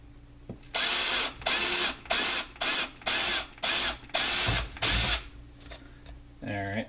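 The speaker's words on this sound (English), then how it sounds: "I really shouldn't talk while I'm drilling." A power drill whirs in eight short, loud bursts with brief pauses between while drilling a DNA 75 box mod enclosure, followed by a faint mechanical rattle at the end.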